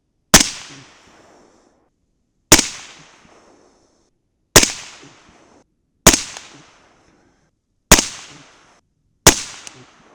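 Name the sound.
6.5 Grendel rifle shots with AR-Comp loads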